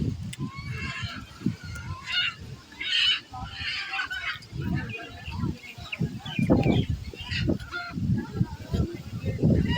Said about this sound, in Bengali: দেখেন হাঁস